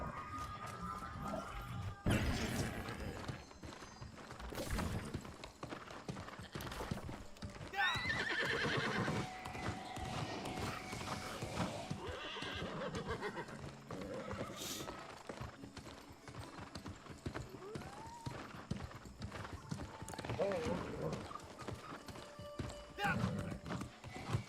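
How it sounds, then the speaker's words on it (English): A horse mount in the game New World neighs repeatedly over steady clip-clopping hooves, with crashes and game sounds layered throughout. "The horse only makes horsey noises."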